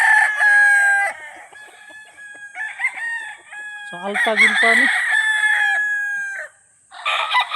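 Loud roosters crowing one after another, long drawn-out calls close by, with clucking chickens and a brief spoken phrase mixed in.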